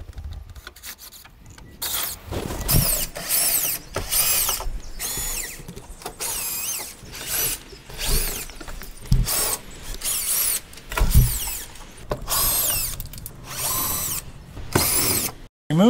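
A power tool spins out T15 bolts from the inner fender liner of a GMC Sierra 2500/3500 truck, loud whirring bursts of drilling separated by short pauses, close up.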